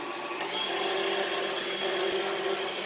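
An electric kitchen mixer whirs steadily as it blends flour and vanilla for keto brownies, a continuous motor hum with a brief click near the start.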